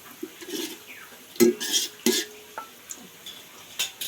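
Spatula and utensil clinks and scraping in a pan as browned fried onions for Kolkata aloo dum biryani are lifted out, a few sharp metallic taps amid light stirring, close and fairly quiet.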